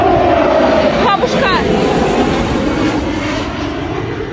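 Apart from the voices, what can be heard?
Su-25 military jet aircraft flying overhead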